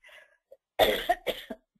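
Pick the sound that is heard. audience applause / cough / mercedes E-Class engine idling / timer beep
cough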